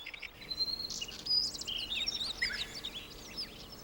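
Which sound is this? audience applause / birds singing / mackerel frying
birds singing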